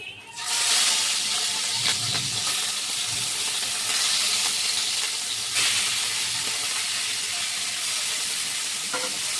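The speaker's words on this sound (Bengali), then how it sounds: "তেলটা আমার গরম হয়ে গেছে, মাছটা দিয়ে দিচ্ছি" Katla fish sizzling loudly in hot oil, a dense steady hiss and crackle close up that holds for the whole stretch, with faint clatter underneath.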